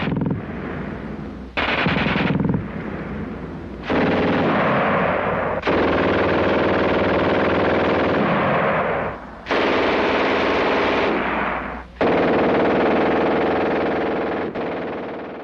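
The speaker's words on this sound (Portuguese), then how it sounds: "Maschinengewehr 42, ou MG-42, foi uma metralhadora alemã criada para substituir a MG-34" A German MG-42 machine gun of the Second World War fires several long, loud bursts of rapid shots separated by brief pauses, each burst ringing with a hard echo.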